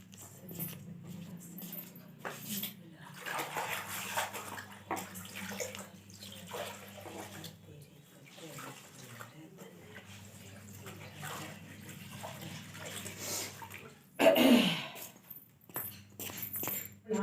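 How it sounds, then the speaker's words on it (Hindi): A floor is mopped by hand in a home room with a bucket of water; water splashes and sloshes intermittently with soft wet wiping, and a louder splash near the end, with no speech. "तो लगाते हैं पोछा, देखते हैं।"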